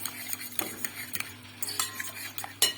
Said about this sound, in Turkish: Bu şekilde yumurtamızı çırptım.